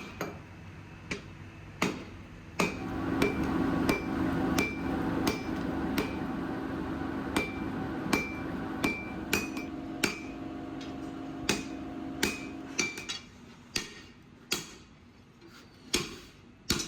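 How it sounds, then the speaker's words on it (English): Hammer blows forge a steel rebar bar into a knife blade, drawing it out on an anvil: sharp, ringing metallic strikes in a steady rhythm, close and loud, with brief pauses between bursts. "Drawing out the bar, leveling the cross-section. Every forging cycle refines the grain."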